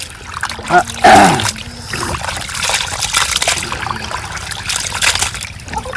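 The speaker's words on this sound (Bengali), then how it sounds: "বন্ধুরা তাহলে মাংসটাকে সুন্দর করে এবার আমরা ধুয়ে নেবো" Goat meat being washed in a basin of water, with close splashing, sloshing and trickling at an uneven pace, plus a few handling knocks and faint background voices.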